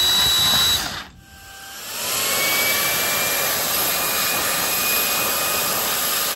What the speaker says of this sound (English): Now with the top of the head bolt completely drilled it out